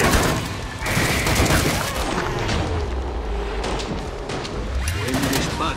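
Dense, continuous gunfire and booming explosions fill the scene in the video game Killing Floor 2, a loud, chaotic barrage of shots with no pauses.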